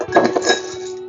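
Ice cubes clink and rattle as they are poured into a shaker glass while a pan twist mocktail is made, a quick cluster of bright, close glassy knocks that rings out briefly.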